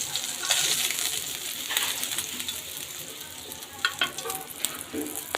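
Sea fish (dhela) frying in a pan, a steady close sizzle with occasional sharper spits and pops, no voices.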